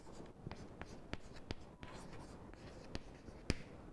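Pen or chalk writing out equations for a lecture on unitary and similarity transformations, close and quiet: steady scratchy strokes with sharp taps as each mark begins, alone without talk.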